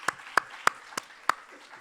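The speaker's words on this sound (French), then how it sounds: "Et ben ça s'applaudit." Five sharp claps ring out at a conference, spaced unevenly, thin and fairly close, more like a few hands than a full crowd, with a quiet room between them.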